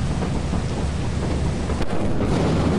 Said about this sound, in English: I think it was like thunder or something, or lightning.